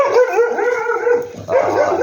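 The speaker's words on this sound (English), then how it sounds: "Dog." Dog making sustained whining, howling yelps in a kitchen, continuous tonal cries with a brief dip before resuming, close and fairly loud with no talk.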